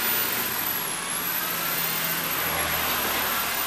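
A Honda Beat FI scooter engine with a newly fitted throttle position sensor runs as the throttle is opened, producing a steady, loud, dense mechanical roar with no pauses.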